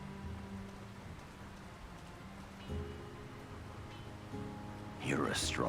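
Rain falling in a town in the video game The Lord of the Rings: War in the North, a soft, steady patter under low tonal game music, with a voice talking near the end.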